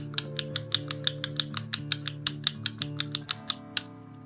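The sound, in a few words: clicking the switch on an Exgreem fidget cube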